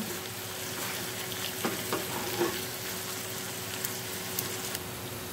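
Vegetables and minced meat for stuffed zucchini boats cooking in a pan, a steady close sizzle and fry with a few soft stirring scrapes, no voices.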